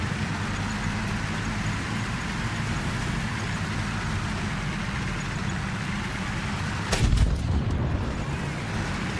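A Lago I medium tank fires its cannon in War Thunder: one sharp, heavy boom bursts out over a steady rumble of engine and battle noise, then fades quickly.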